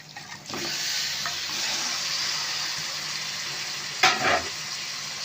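Marinated chicken for a yogurt chicken dish hits a hot pan, producing a steady close sizzle with a sharp clatter of stirring near the start and again toward the end.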